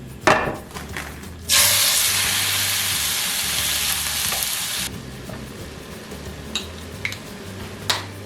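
A teriyaki stir-fry bursts into a loud, steady sizzle in a pan on medium heat, holding for a few seconds before easing off into quieter crackles, occasional spatula scrapes and utensil clinks.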